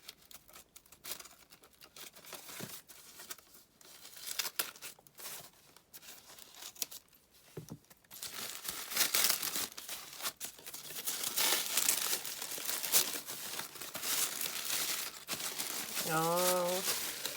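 Paper crinkles and tears as a gift is unwrapped with scissors, with snipping and rustling growing busier and louder, and a voice briefly heard near the end.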